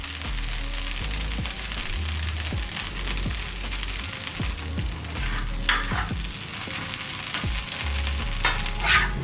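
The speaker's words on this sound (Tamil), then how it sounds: "இப்போ இந்த தோசை ஊற்றும் போது ஒரு மீடியம் ஃப்ளேமில் வச்சுக்கோங்க" Tomato wheat rava dosa batter sizzling on a hot pan over a medium flame, a steady frying hiss with repeated low scraping and spreading strokes and a few brief louder crackles near the end.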